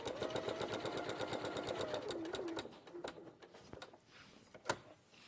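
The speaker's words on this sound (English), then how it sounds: "stitching through the layers." A Simplicity sewing machine stitches through fabric layers, giving a rapid steady mechanical whirr with a tonal motor hum that slows and stops, followed by a few clicks and a thump, close and moderately quiet.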